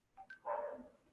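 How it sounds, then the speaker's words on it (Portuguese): A dog barks in the background during an online meeting, giving a couple of short yips and then a longer whining bark, faint and distant, with no talking over it. "E tem um cachorro latindo ao fundo."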